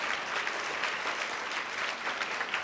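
An audience at a women's awards ceremony claps in a dense, even wash of applause, somewhat distant and moderately quiet, holding steady throughout without any voices.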